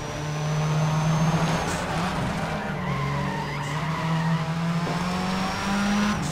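A race car in Need for Speed ProStreet roars with a loud steady engine drone while the tires squeal and skid through the corners, loud and continuous with no voices over it.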